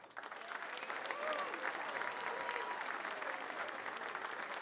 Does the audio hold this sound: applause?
yes